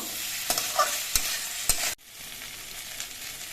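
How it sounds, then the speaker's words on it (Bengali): Eggplant and drumstick flowers stirred and fried in a pan: a steady bright sizzle with several sharp scrapes and clacks of the spatula, then a sudden drop to a quieter, softer frying hiss for the last stretch. "এবার এর মধ্যে ভেজে রাখা বেগুনগুলো দিয়ে দিচ্ছি সব কিছু দিয়ে নেড়ে কেড়ে মিশিয়ে আরও কিছুক্ষণ ভেজে নেব"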